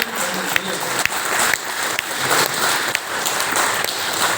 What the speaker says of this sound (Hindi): बजा दो इनको ताली। अरे बजाओ, दोनों बजाओ भैया